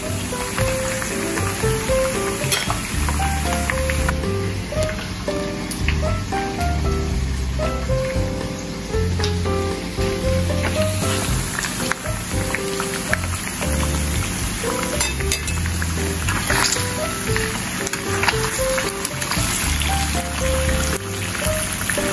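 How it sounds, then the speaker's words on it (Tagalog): Pork pieces deep-frying in hot oil make a loud, dense, unbroken crackling hiss that holds steady throughout, close up, with no talking. "ang most challenging part ng ating pagluluto, ang pagpiprito ng pork"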